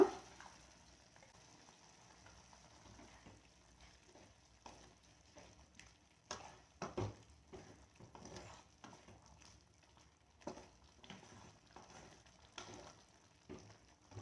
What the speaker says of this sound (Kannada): ಒಂದು ಸ್ವಲ್ಪ ಚೆನ್ನಾಗಿ ಫ್ರೈ ಆಗಲಿ ಹಸಿ ವಾಸನೆ ಹೋಗ್ಬೇಕದು